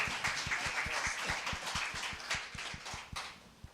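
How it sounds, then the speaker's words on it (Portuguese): A church congregation claps in a steady, rhythmic beat, with sharp evenly spaced claps running throughout at moderate loudness over a hum of voices. "Aplauda o Senhor."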